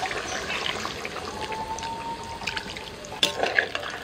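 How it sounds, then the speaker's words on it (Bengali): Hot water poured into a kadai of mutton rogan josh, a steady soft liquid pour and bubbling under a low hiss, ending with a couple of sharper splashes near the close. "আমি কিছুটা গরম জল দিয়ে দিচ্ছি বাকিটা সিদ্ধ করার জন্য"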